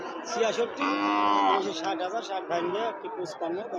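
Cattle at a livestock market, Sahiwal bull among them, with a long drawn-out moo standing out from a busy crowd of voices; people talk throughout around the animals.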